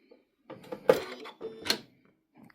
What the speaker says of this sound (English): I'm gonna give myself a little back stitch.